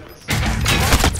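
Rapid bursts of gunfire from a shooter in a building firefight, loud and close, crackling through a dense volley after a quieter opening moment.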